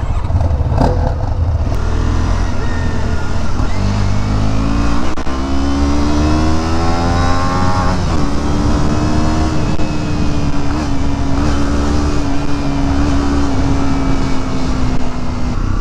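A small white 125cc motorcycle engine running steadily while riding, loud and close, its pitch rising and falling through gear changes with constant wind rush and no talk.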